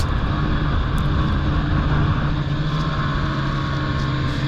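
A snowmobile rides along a smooth groomed trail at Old Forge, its engine giving a loud, steady drone throughout with a constant wind-like rush and no talking.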